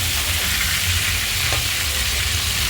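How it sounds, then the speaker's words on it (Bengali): Chicken pieces fry lightly in a pan for a Bengali chicken kosha, giving a steady, close, unbroken sizzle with an even hiss and no voices. "দেখতেই পাচ্ছেন আমার হালকা করে একটু ভাজা হয়ে যাচ্ছে"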